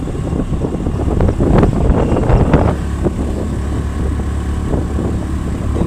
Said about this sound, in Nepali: यहाँ चाहिँ हावा कारणले गर्दा सर्र शीतल आइरहेको छ कि।